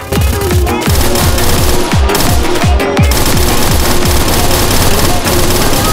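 Rapid submachine gun fire from a UMP in a battle royale shooter game, with loud, dense repeated bursts of shots that continue almost without pause.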